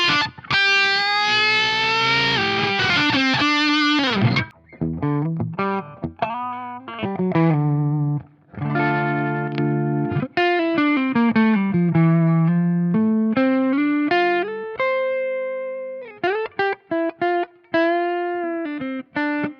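Heavily distorted Charvel Pro Mod So-Cal Style 1 Floyd Rose electric guitar on the bridge pickup plays sustained chords and riffs with bright, biting tone, loud and upfront, pausing briefly between phrases.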